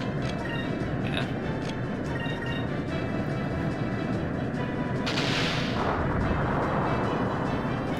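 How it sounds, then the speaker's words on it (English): Main cannon blasting in the Skies of Arcadia HD video game, a dense, loud rumbling barrage with a bright burst of impact noise about two-thirds through, all continuous and close. "I'll just use the main cannon."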